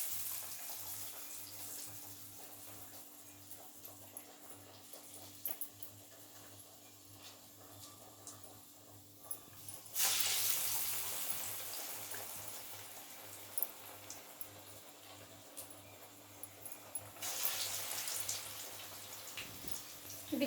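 Small flattened dough balls dropped into hot oil, a faint steady frying hiss that swells into a louder broad sizzle midway, then settles back to a quiet crackle, with no talking.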